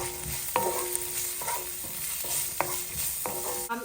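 Palak paneer greens and stalks cook in a pan with a soft, steady sizzle, broken by several spoon clinks and scraping stirs at irregular intervals, fairly quiet and close.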